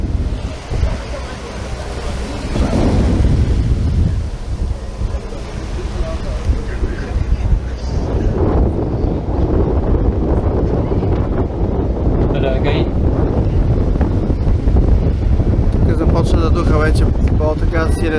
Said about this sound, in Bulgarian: Силен вятър